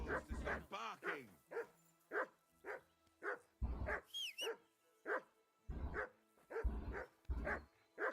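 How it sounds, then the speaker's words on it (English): A dog barks repeatedly in the video game Kingdom Come Deliverance II, a steady series of close, loud barks with short gaps, a few sharper yips mixed in. "That barking was a pain in the ass."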